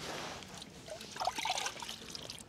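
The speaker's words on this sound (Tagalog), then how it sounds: "Tapos ito, hugasan natin." Running water trickles and pours while food is washed at a campsite in Botolan, Zambales. The splashing is soft and close and swells briefly toward the middle.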